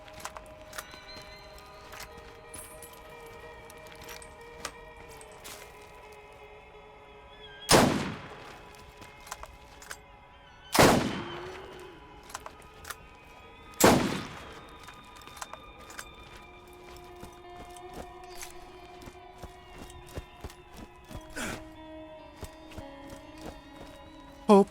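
Slow, spaced sniper rifle shots from the video game Borderlands, three loud booming cracks a few seconds apart standing out over a steady hum of game music and ambience, with a few fainter pops later.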